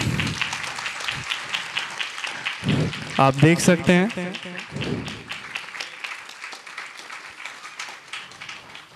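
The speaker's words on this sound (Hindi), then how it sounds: "तालियां रुकनी नहीं चाहिए।" Audience applause at a yoga program in Ludhiana, steady crowd clapping like patter under someone speaking, with a brief musical passage partway through.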